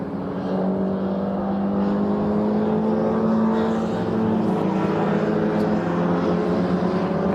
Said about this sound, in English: It's the blue and white car thumping around at the minute.